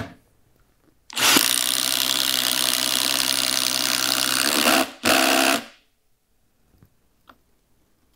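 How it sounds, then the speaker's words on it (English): A Milwaukee M18 Fuel Gen 3 impact driver fitted with a fresh spade bit drills a hole, a loud continuous whirring run of about four seconds, a brief pause, then a short second burst before falling silent. "Let's drill our hole."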